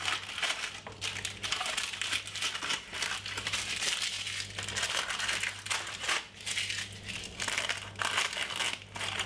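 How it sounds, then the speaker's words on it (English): Crisp baking paper being trimmed with scissors or a knife for a butter sponge cake tin, a steady run of close crinkling and crackling snips that carries through the whole stretch with no talk. "Let's cut off the excess paper."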